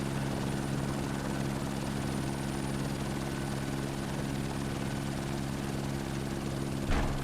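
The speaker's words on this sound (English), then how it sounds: "Helicopter's down." A helicopter in the survival game No One Survived drones loudly and continuously as it sets down near a semi-flat base spot, its steady rotor hum unbroken by talk.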